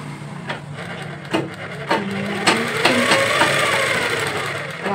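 A sewing machine stitches along the edge of a saree, its needle giving a few separate clacks that then settle into a steady, close mechanical run with no one talking.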